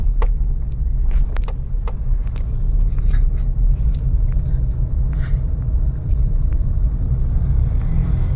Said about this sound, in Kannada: ನಾನೇ ಈಗ ಓಡಿಸ್ಕೊಂಡು ಮುಂದೆ ಹೋಗ್ತಾ ಇದ್ದೀನಿ